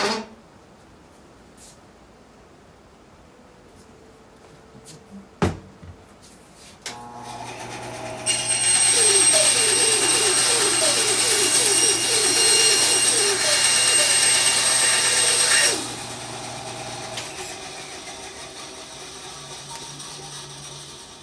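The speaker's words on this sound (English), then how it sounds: "You ever cut leather on a bandsaw?" A bandsaw cutting through leather in a cedar woodshop, the machine spinning up after a few scattered knocks, a loud sustained whine with rasping cut texture for about eight seconds, then winding down.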